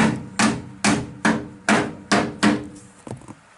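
Hammer blows strike the rear body panel of a Citroën Traction 11B during bodywork repair, seven sharp metallic knocks in a fairly even rhythm, each ringing briefly, with the last ones softer and quicker.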